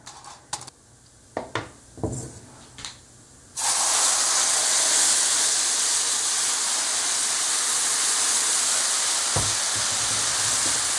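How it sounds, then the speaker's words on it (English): Salsa poured into a pan of toasted fideo noodles bursts into a loud, steady sizzle that carries on alone after a few soft clinks of utensils, for a vegetarian sopa seca de fideo. "Once you've toasted the fideo evenly, it's time to add the salsa."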